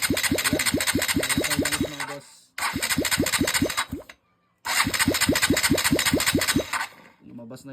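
An XR150L motorcycle engine fires up and idles close by with a loud, pulsing single-cylinder chug, cutting out twice and restarting in short runs.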